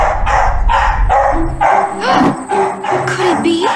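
A cartoon dog barks repeatedly in a quick rhythm, loud and close, followed by whimpering yips, with an animated character voice mixed in.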